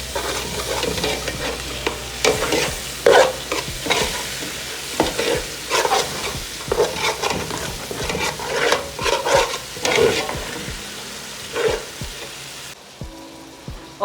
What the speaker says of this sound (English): it's still frying a little, but I had to reduce that like the fire a little because it was already burning